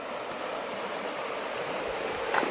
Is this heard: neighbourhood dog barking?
no